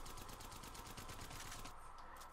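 Rapid automatic gunfire from a 25-round weapon in Apex Legends, shots sprayed into a wall in a steady fast rhythm that cuts off near the end, loud and close with no talk.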